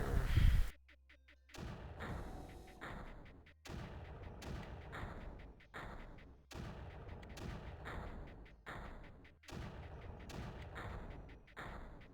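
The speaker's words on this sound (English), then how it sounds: "Can I get those mortars closer?" Mortars firing in the strategy game Creeper World, a loud burst followed by a steady series of repeated thudding booms with sharp attacks, spaced roughly a second apart and heard alone without talk.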